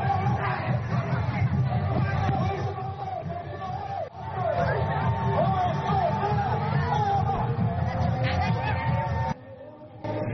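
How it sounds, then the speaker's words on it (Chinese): Villagers at a Wa ethnic festival in a square break into excited commotion, a dense, loud babble of many voices and shouts filling the whole span, dropping off abruptly near the end. "忽然间，整个人群就沸腾了起来"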